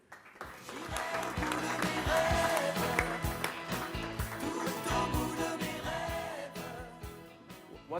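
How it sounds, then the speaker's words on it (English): An audience applauds a guest on stage at the Connected TV World Summit 2024 in London, with steady, dense clapping that swells and fades over several seconds while music plays underneath. "So big applause for Herminio, please."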